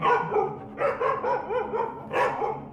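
A dog barks and yips several times in quick bursts in an audio drama staging of Angela Carter's Vampirella, the barks close and fairly loud with no talking over them.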